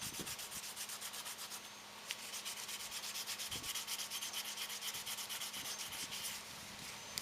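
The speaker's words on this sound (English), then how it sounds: "give it a little bit more sanding on the radius" Steady rhythmic hand sanding of the radiused edge of an aircraft window, quick rasping strokes rubbing back and forth continuously at close range, with a few faint knocks.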